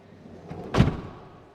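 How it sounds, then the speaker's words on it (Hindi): The side door of a 10-seater passenger van is opened with a knob, giving one faint, muffled thud near the middle with soft handling noise around it. "दरवाज़ा खोलने के लिए यहाँ बड़ा स्मार्ट किस्म का इन्होंने नॉब दिया हुआ है"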